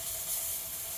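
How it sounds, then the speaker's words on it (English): A Breville Oracle BES990 espresso machine's steam wand, run in manual mode, steams milk with a steady, loud, close hiss and nothing else heard. "So if you push it up, you can steam your milk just like a barista."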